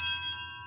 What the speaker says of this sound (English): So at the epiclesis, the bells ring with the single